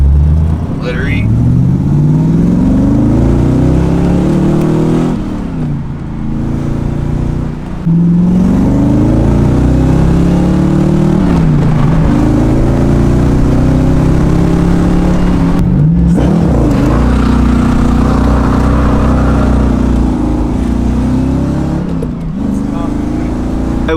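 A car engine revs and surges loudly up close while the car drifts, its pitch rising and falling in repeated sweeping waves over about twenty seconds, with voices talking over it.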